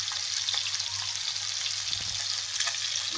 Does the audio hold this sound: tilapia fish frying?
yes